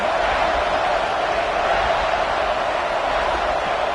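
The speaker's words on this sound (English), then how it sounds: "And here comes the noise. This crowd is trying to inspire this defense to make a big red zone stop." Steady roar of a large stadium crowd at a Georgia vs Alabama college football game, a loud continuous wash of massed voices that holds unbroken throughout.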